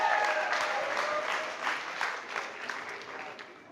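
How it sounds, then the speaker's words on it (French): A church congregation applauds for the singing team during a morning service, a lively burst of clapping that slowly tapers off. "Une bonne main d'applaudissements pour l'équipe de chant, Charles en particulier"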